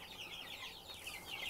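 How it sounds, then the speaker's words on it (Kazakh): Chicks of the Black Shehzade, a chicken breed from Uzbekistan, fill the space with dense, continuous high-pitched peeping from many birds at once, a steady close chorus with no talking. "Мынау қара шехзаде деген Өзбекстанның хит тауығының балапандары."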